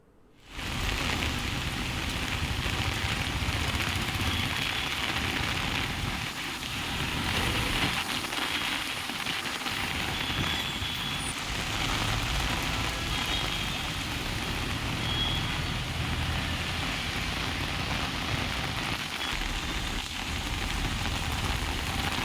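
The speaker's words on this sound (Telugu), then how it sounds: "ప్రాంతాల్లో అయితే భారీగా వర్షం పడుతోంది." Heavy rain pours steadily over Hyderabad, a dense continuous hiss with no pauses, mixed with faint distant traffic and vehicle sounds underneath.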